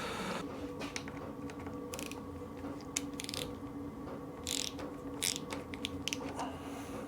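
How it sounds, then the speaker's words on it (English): Handlebar lever on a BMW GS motorcycle being worked in a quiet workshop, giving faint close creaks and short ratcheting clicks in scattered bursts. "Let's move the lever, see where we are."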